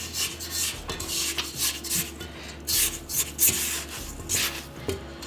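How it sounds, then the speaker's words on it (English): A spatula scrapes down the sides of a mixing bowl of creamed vegan chocolate cake batter, made with no eggs or dairy, in a quick series of close, soft rubbing strokes with no talking. "Scrape down the sides."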